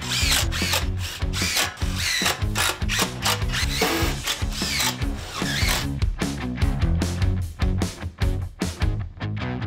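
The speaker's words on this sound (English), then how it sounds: "we're gonna be looking to put 3 to 4 stainless steel screws in per nailer" A power drill drives stainless steel screws into wooden fence nailers in repeated loud, close bursts, with the motor revving and ratcheting through each screw and short pauses between them.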